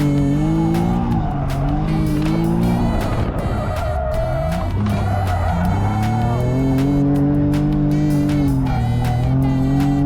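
Car drifting with long, wavering tire squeal over a revving engine, heard loud and close from inside the passenger seat, continuous for the whole stretch.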